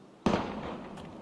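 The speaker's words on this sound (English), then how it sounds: "Gunfire!" A single sharp gunshot-like crack in a Valkyria Chronicles war game, a sudden loud burst with a decaying rumble, followed by a faint second pop.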